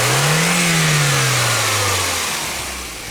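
Car engine revving under acceleration, a loud close drone that climbs and then slowly falls in pitch as the revs drop, with no talking over it.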